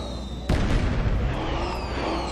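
A sharp firework burst in Star Trek Online, one loud sudden bang followed by a rumbling, crackling decay and a lingering tonal background.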